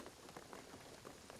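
Rain falling in the video game Shadow of the Tomb Raider, a soft steady patter of drops on surfaces, continuous and faint with no talk.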